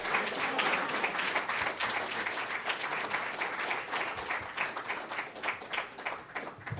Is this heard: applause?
yes